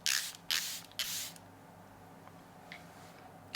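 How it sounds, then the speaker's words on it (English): Three quick hissing pumps of a makeup setting spray mister close by, followed by quieter faint sprays in a hushed room. "always spray elsewhere a couple of times first"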